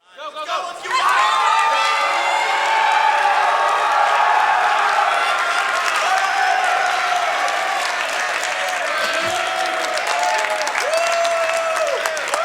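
A large crowd at an MLG Halo tournament in Las Vegas cheers and applauds loudly and continuously, with whoops and whistles rising over the roar and a commentator speaking over it.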